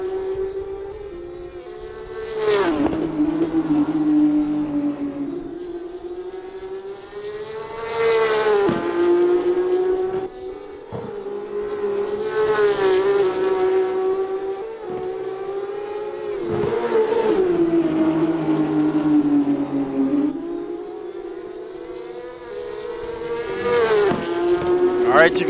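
Porsche 911 GT3 992 Cup race car engines roar in a sim racing championship round, loud and sustained, revving up through gears with sharp shift drops and rising whines, continuous throughout.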